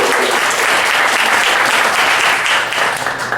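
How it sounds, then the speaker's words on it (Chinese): An audience at a bookstore reader-sharing event for a new book gives a burst of loud, dense, continuous applause, close and sustained throughout. "那给一点掌声哦，给点掌声给他。"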